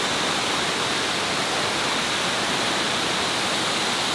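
Waterfall at Dunn's River, Jamaica, pouring in a steady, unbroken rushing roar that holds evenly throughout, close and fairly loud, with no voices.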